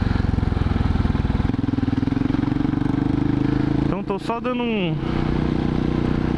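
A 2007 Husqvarna SM610 motorcycle rolls slowly through a quiet street in Alphaville, its single-cylinder engine a steady low putter throughout, while someone speaks briefly over it near the end.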